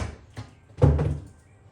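Heavy furniture drawers are handled: a soft knock, then a louder wooden thud with a rumbling scrape as a drawer is shifted, fairly close and with no talking.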